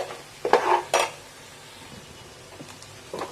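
Mutton being stirred and fried in a pan: two loud metallic scrapes of the spoon open it, then a quieter sizzle with a few lighter stirring scrapes.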